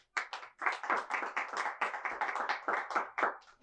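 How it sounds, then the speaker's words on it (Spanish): A small church congregation claps in praise, a sparse, uneven patter of a few pairs of hands striking in quick irregular bursts, fairly quiet and close, with no talking over it. "Dale un fuerte aplauso al Señor."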